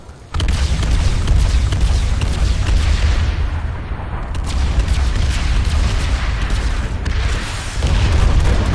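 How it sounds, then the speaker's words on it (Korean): Grenade launches and explosions in the video game PlanetSide 2 make loud, dense booms and rumbling blasts that run almost continuously, with heavy low-end and brief dips between bursts. "수류탄 발사!"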